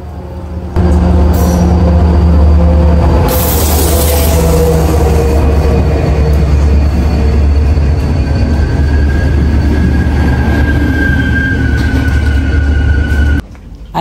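Rumble of a train heading to Tel Aviv, heard from inside a carriage: loud, continuous low rolling with a squealing screech of wheels partway through and steady mechanical drone to the end.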